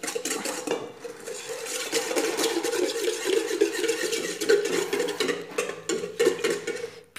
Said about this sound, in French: Donc je prends mon fouet pour mélanger.